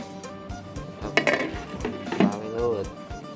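A metal lid set onto a cooking pot of catfish soup with vegetables and red ants, a couple of close clanking knocks and rattles over a steady background hum, with someone talking throughout.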